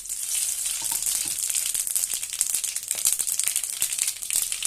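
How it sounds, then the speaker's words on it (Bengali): Whole cumin, cardamom and cloves sizzling in hot oil in a kadai, a steady crackling fry with small pops, close and moderately loud, with no talk. "কড়াইতে তেলটা গরম হয়ে গেছে, দিয়ে দিব গোটা জিরে, এলাচ, লবঙ্গ,"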